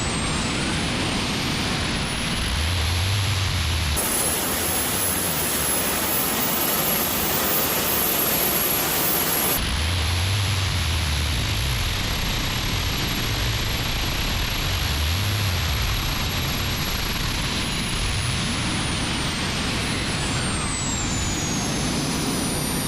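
A jet engine fitted to an electric vehicle runs at full throttle, a loud, steady roar with a broad hiss and high whine that holds for over twenty seconds, swelling into a harsher blast midway.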